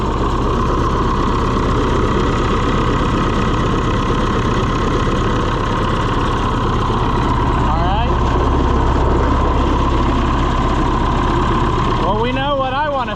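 An Allis Chalmers 175 diesel tractor engine idles close by just after being reassembled, a loud steady knocking drone that runs the whole time, with brief squeaky chirps toward the end.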